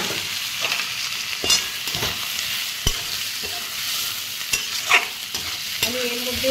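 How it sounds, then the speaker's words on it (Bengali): Fried pointed gourd and potatoes tumble into a pan of rohu fish curry, giving steady close sizzling with scattered scraping stir clicks and soft thuds. "আমি এই পটল আর আলু ভেজে রেখেছি সেগুলো দিয়ে দিলাম"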